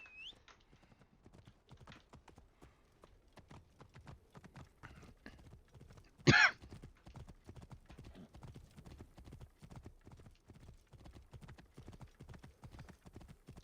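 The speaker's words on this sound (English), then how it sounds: "I guess I could be riding the horse along here." Horse hooves clip-clop in a steady, rapid rhythm as a horse gallops across terrain in the video game Assassin's Creed Origins, a continuous run of close hoofbeats with one brief louder burst midway.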